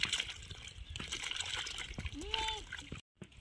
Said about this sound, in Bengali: এই যে ভালো করে আমি পুকুরে একটু ভালো করে ধুয়ে নেবো জলে